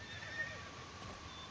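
A horse in the Star Stable Online video game gives a short whinny, a brief neigh rising over a quiet background with faint hoof clatter.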